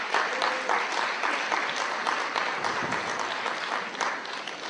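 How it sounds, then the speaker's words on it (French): A hall audience in Aubagne welcomes the 1000 Colombes choir from Marseille with sustained, dense applause that holds at an even, fairly loud level for several seconds, with no voices over it. "Sous vos applaudissements."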